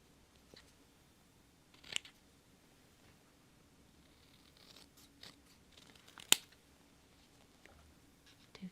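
Scissors trim a cut-out Merry Christmas card piece in a few quick, close snips separated by quiet pauses, with light paper rustling between cuts.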